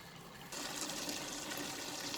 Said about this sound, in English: I am going to add water to this recipe